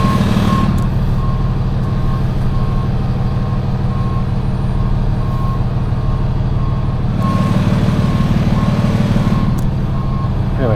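A truck at Forks backs up beside another vehicle while dropping off a car, its reversing alarm beeping steadily and loudly over a continuous low diesel engine rumble.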